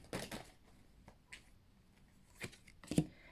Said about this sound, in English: I'm just shuffling the cards to see.